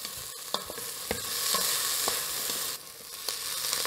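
Chunks of ginger and quartered garlic fry in a pot, giving a continuous soft sizzle broken by repeated scraping stir strokes, close and fairly quiet.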